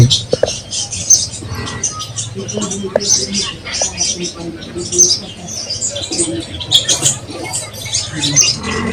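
Busy high chirping of small birds, like sparrows, goes on continuously, mixed with people talking nearby and some rustling background noise.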